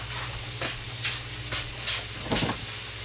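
Food sauteing in a pan gives a steady low sizzle, broken every half second or so by sharper scraping stirs that rise and fall.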